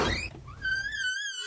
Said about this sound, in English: There is no answer to your knock.